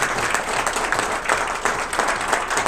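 Loud, sustained applause from a large audience at a book launch, many hands clapping in a dense, continuous roar that holds steady throughout.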